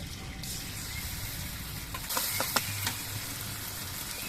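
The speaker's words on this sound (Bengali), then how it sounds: "এবার এর মধ্যে আমি বেটে রাখা তিলটা দিয়ে দিচ্ছি" Ground sesame paste hits a pan of frying green chilies and nigella seeds, adding to a soft, steady sizzle, with a few sharp clicks of a utensil partway through.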